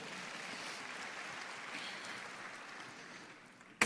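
Applause from a church congregation, a faint, steady wash of many hands clapping that holds for a few seconds and then tapers off before a sharp sound at the very end.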